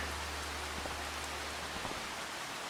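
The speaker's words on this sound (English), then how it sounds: "We've got a rain shower this morning." A morning rain shower in Farming Simulator 25's Highlands Fishing Expansion, set in Scotland, gives a soft, even wash of rainfall with scattered drop ticks and a faint low hum beneath.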